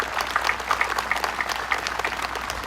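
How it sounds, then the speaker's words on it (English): Crowd applause at a political rally, a sustained fairly distant wash of clapping with scattered cheers and whistles rising above it. "Let's give all those guys a big round of applause."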